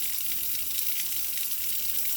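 Water pours steadily into a duct-taped homemade guinea pig cage base, a continuous bright splashing and trickling at close range, even and unbroken throughout.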